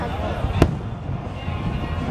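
A single sharp firework bang pops out of steady outdoor crowd noise at a July Fourth display in Groton, Connecticut, with a continuous hum and murmur of people around it.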